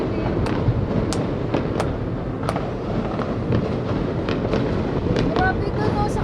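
New Year fireworks burst over Hanoi, Vietnam: a dense, continuous roar of distant explosions and crackling, with sharp pops scattered throughout, all loud and unbroken.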